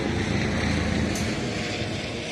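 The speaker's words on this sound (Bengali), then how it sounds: "বলতে একটা হেলিকপ্টার যাচ্ছে" A steady low rumbling drone of a helicopter passing overhead in Romania, broad and constant throughout, with a faint wind-like hiss.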